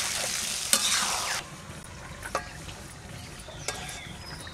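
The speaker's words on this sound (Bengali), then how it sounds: "আস্তে আস্তে লাড়বো, এই আমটা একটু সিদ্ধ হবে" Mango pickle cooking in a pan gives a faint simmering sizzle with a few sharp spoon scrapes and clicks from slow stirring, louder at the start.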